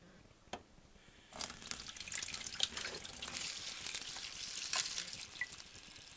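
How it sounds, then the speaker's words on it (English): Cold water runs from a kitchen tap in a steady, close rushing stream that starts after a brief drip and a quiet pause, filling a pot or sink with no talk over it. "Add in cold water from the tap"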